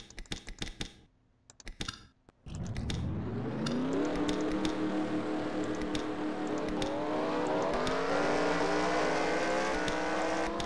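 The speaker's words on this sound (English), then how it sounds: "As these 42 drivers start their engines up," Forty-two race car engines start up in a NASCAR Nationwide Series racing video game, a few short revs giving way to a loud, steady, building roar of many engines idling together.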